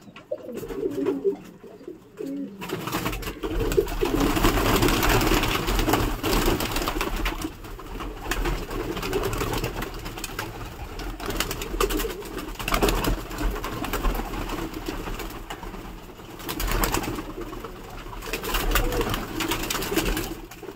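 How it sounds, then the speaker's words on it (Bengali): A flock of baby pigeons coos, soft repeated throaty calls rising and falling close by after a brief quiet start, with a low rustling background. "বাচ্চা পায়রাগুলোকে ছাড়া হবে"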